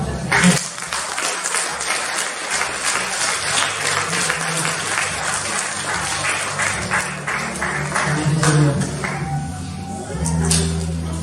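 A church congregation applauds in a sustained wash of clapping and cheering that runs the whole length, loud and close, with a few louder swells near the end.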